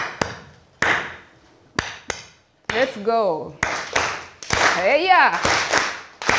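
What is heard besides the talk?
Rwandan hand clap rhythm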